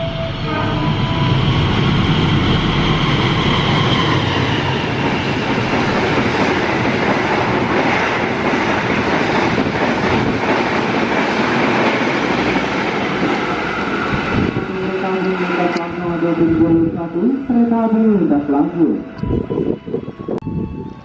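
Kertajaya 253 passenger train with a separate dining car rolling past on the rails, a loud steady rumble of wagons with rhythmic wheel clatter, fading toward the end as softer squeals and tones appear.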